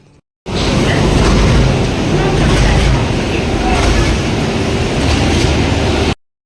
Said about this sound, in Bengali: প্ল্যাটফর্মে আমি চলে এসেছি, আর ট্রেনও আমার সামনে এসে গেছে